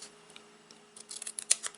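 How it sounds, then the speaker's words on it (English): Scissors snip through card stock for a scrapbook card, a run of short crisp cuts that grow quicker and louder toward the end, close up with no talking. "So I think I'll cut it with my scissors."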